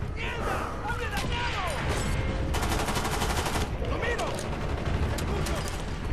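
Scorpion submachine gun firing in a Cold War–era first-person shooter, a continuous rapid rattle of automatic bursts amid loud combat noise, with a voice speaking over the din.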